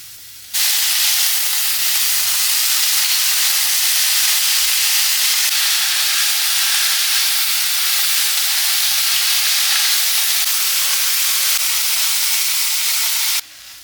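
Onions and green chillies frying in hot coconut oil in a pan, a loud, continuous close sizzle and hiss that starts abruptly and stops abruptly, with no talk over it.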